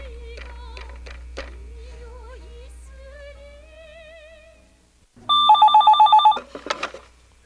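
An old telephone rings in a burst of loud rapid electric bell trills near the end, following quiet music, then a brief shorter ring.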